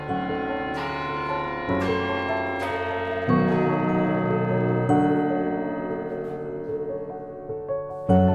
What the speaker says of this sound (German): Die weltgrößte gusseiserne Glocke. Ihr Klang hallt über den Marktplatz.